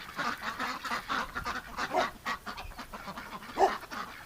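Ducks splashing about in fresh water on a windy winter day, with soft, scattered quacks and honking calls, fairly faint, plus a couple of slightly clearer calls near the end.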